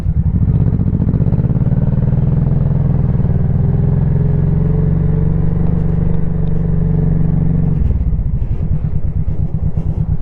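A Honda Shadow Sabre 1100 cruiser on its first ride after repairs, engine droning loud and close at a steady low rumble, then dropping in pitch as the rider eases off near the end.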